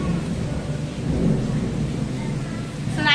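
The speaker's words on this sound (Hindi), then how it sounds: "बहुत जोर से बादल कड़क रहा है।" Heavy rain pours outside a kitchen window while deep thunder rumbles loudly and continuously through the storm, with no voices over it.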